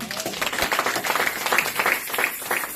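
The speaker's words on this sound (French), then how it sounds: "Donne une main d'acclamation à Dieu." A church congregation claps rhythmically in a sermon, a close, fairly loud run of hand claps with crisp individual strikes, no talk over it.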